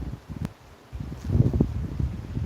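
Wind gusting outdoors beside an open beehive during an inspection, a low buffeting rumble that swells and eases across the moment, with faint rustling on top.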